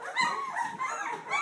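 Young Vizsla puppies whimper and yip in a continuous, high-pitched chorus of overlapping cries, close by and fairly loud throughout.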